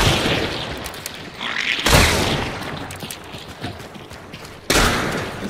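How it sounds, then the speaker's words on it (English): Gunfire in the Hunt Showdown video game: two loud, close booming shots several seconds apart, each followed by a decaying rumble and reverberant tail. "This gunfire's slow, man."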